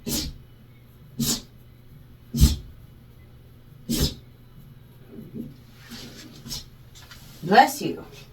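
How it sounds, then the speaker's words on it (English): A pet dog sneezes several times in an indoor room, sharp close bursts spaced a second or two apart, followed by softer snuffling and a brief vocal sound near the end. "Sorry, my dog is sneezing."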